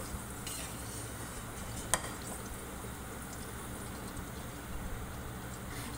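Vegetables frying in hot oil in a wok, a soft continuous crackle and sizzle with stirring and one sharp click partway through.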